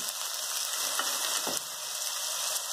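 Dal and spices crackle in hot oil while tempering, a continuous dense sizzling hiss with faint clicking pops, steady and close.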